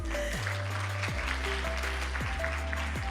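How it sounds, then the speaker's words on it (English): A conference audience applauds after a women's health leadership panel discussion in East Africa, soft continuous clapping sitting under louder tonal music that repeatedly swoops downward. "a round of applause, ladies"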